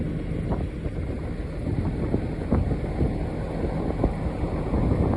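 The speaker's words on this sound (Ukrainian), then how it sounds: "І вітер голову зносить" Strong wind roars steadily across the microphone in a field during the rapeseed harvest, a continuous heavy buffeting rumble with gusty bumps and no voices.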